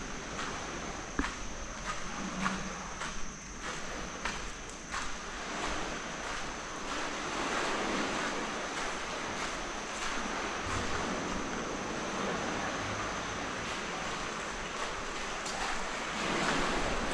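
Ocean waves break and wash beneath a bridge in a constant rolling roar, joined by gusts of wind buffeting the microphone, with no voices.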